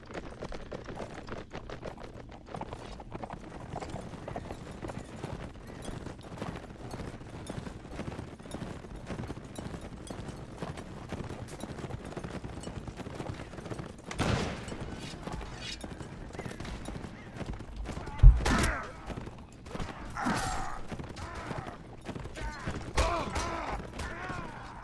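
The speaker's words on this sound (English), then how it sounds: "Cavalry, charge." Cavalry horses charge in the battle game Mount & Blade: Warband, a steady clatter of hooves under battle noise with scattered gunfire cracks and a sharp bang near the end.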